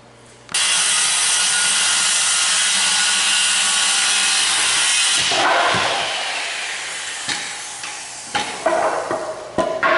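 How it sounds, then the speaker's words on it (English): A saw cuts wood for a hunting blind built on a trailer, a loud continuous rasping cut that starts abruptly, then tapers into scattered knocks and clatter as the piece comes free. "Now I gotta cut 66 and a half for this side."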